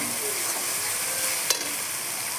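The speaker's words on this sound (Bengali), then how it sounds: "হালকা ভেজে নেওয়ার পরে এবার যাবে জিরে বাটা। এটাকেও নাড়তে হবে অনেকটা" Cumin paste frying in a pan, a loud continuous hiss and sizzle up close with one brief scrape of the spoon partway through.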